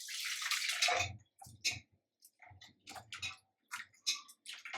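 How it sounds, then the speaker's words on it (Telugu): Tamarind leaves being washed by hand in water, with a loud pour at the start followed by intermittent splashing, rinsing and sloshing bursts close by. "వాటర్ పోస్తున్నా, కడుగుతున్నా."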